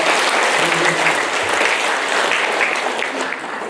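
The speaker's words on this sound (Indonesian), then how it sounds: "Tepuk tangan buat kita juga." Loud, continuous crowd applause fills a school gathering hall during a provincial governor's visit. Many hands clap steadily throughout and the noise thins slightly toward the end.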